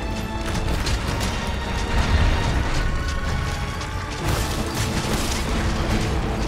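Explosions in Monster Hunter World: Iceborne during a charge blade fight against Uragaan, rumbling blasts and crashes mixed with dense clattering combat noise, fairly steady and loud throughout.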